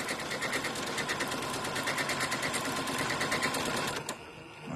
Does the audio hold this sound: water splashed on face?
no